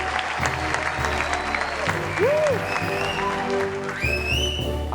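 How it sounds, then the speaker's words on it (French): Audience applause at a live concert show, steady clapping with music and instrument tones sounding over it, including sliding pitched notes near the middle and end. "on va applaudir très fort, s'il vous plaît"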